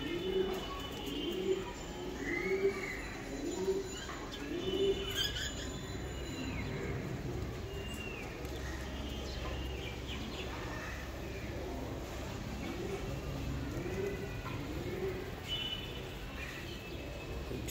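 Giribaz high-flying racing pigeons coo repeatedly in soft, rhythmic calls close by, with occasional chirps over a low background hum.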